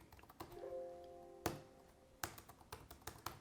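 Quiet clicking of keys being typed on a Samsung Smart Keyboard Trio 500 paired with a Galaxy Tab S8 Ultra, irregular taps with a few louder strikes, close by and without talk.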